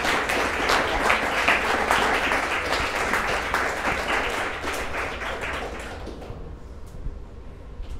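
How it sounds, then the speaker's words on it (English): An audience at a live debate claps in a loud, sustained round of applause that gradually thins and fades into scattered claps near the end. "let's give a round of applause before we start the Q&A"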